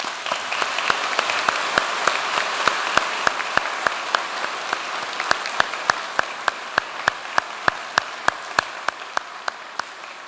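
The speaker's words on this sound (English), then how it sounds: "I would like to now invite today's graduating class to join me in a round of applause for our supporters" Graduating class at a University of Limerick autumn conferring ceremony applauding their supporters in the hall and balconies: a dense, steady wash of many hands clapping, with a few sharp claps standing out near the front.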